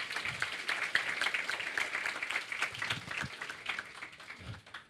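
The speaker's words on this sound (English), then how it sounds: "Can we give a round of applause" Moderate room applause from a debate audience welcoming a panellist at an Oxford-style Brexit debate, continuous patter of many hands at middling loudness with a few low thumps.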